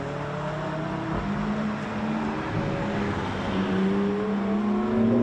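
BMW rally cars, modern and older, run through a rally stage at Mt Lofty, their engines a steady droning roar that rises in pitch and builds louder toward the end as a car approaches.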